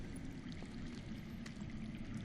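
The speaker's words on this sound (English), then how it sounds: "That's water. I hear water. From underground." Underground water flows and pours out of sight in the Game of Thrones Telltale Games Series, a quiet continuous trickle and splash. It is faint and steady throughout, with no talking over it.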